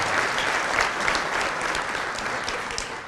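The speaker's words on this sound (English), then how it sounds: "A round of applause for Susan." A roomful of guests at a retirement party applauds steadily for several seconds, a dense even patter with no one talking.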